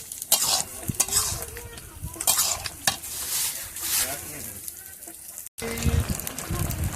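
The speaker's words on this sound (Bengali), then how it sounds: "ঘন্টাটা কি সুন্দর ফুটছে" Bottle gourd stem curry cooking in a pan, with a continuous sizzle and bubbling broken by repeated clinks and scrapes of a utensil stirring, close and fairly busy.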